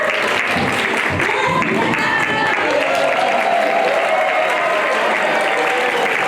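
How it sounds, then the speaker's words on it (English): Audience at a public magic show in Hawaii claps in a steady broadband wash, with a voice speaking over the middle portion and brief tonal noise on top. "Do you want to clap?"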